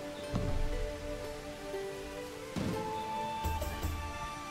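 Rain falls steadily in the fantasy video game For The King II, a soft continuous patter running throughout with a few brief louder bursts layered over it.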